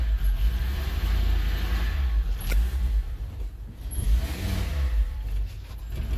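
Fiat X1/9 engine cold-starting in a garage, a close, loud low rumble that rises into uneven revs and then settles to a rough, steady idle.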